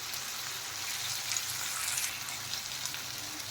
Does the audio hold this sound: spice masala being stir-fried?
yes